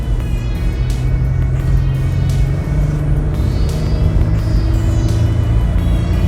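Loud, steady low engine drone from a 2001 Honda Passport as it accelerates, a transmission stuck in low gear and refusing to upshift, with no voices over the continuous rumble.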